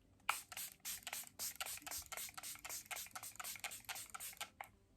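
Charlotte Tilbury makeup setting spray misted in a quick run of short, hissing pumps, about a dozen rapid bursts in steady rhythm, close and fairly quiet with no talking.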